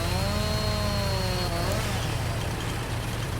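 A chainsaw in the Farming Simulator 19 logging game drones steadily while cutting a tree. Its revving whine climbs and falls near the start, then settles into a constant buzzing hum.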